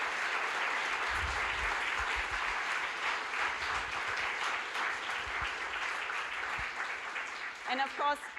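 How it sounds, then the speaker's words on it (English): A large conference audience gives the organizers warm, sustained applause that stays steady and full throughout, with a voice starting to speak at the very end. "a very, very warm applause there for the organizers"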